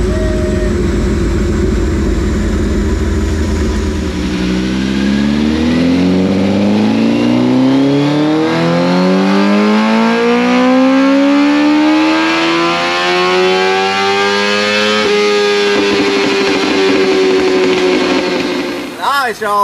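A 2004 Suzuki GSX-R 1000 sportbike fitted with a Brock's Performance Alien Head exhaust runs on a dyno, its engine climbing in a long, loud sweep to high revs and then holding there before cutting off abruptly.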